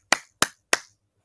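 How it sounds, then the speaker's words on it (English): Three sharp, separate hand claps, close and crisp, evenly spaced about a third of a second apart, each with a quick decay into silence. "Give them a round of applause."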